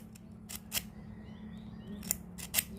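Scissor blades being sharpened by scraping their edges with the flint head of a lighter, giving several short bright rasping strokes that come in clusters over a low steady hum, close up and fairly faint, with no talk.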